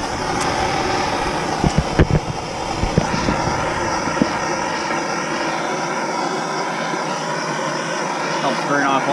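A torch roars steadily as it preheats a Nissan 350z viscous limited-slip differential before welding, burning off gear oil and brake cleaner. A few metallic knocks come early, and the dense hiss holds at a constant level throughout.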